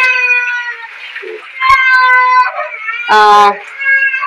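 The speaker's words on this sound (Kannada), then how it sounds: "ಕೆಳಗ ಸಣ್ಣ ಬೆಕ್ಕಿನ ಮರಿ ಐತಿ" A small kitten meows repeatedly, high and thin, several drawn-out cries close to the microphone.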